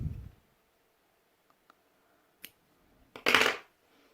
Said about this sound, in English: And we are going to cut the yarn.